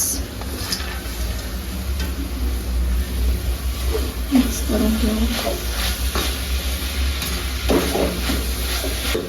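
Melted jaggery and coconut filling stirred in a pan, a steady sizzling hiss with soft scraping strokes throughout, close up.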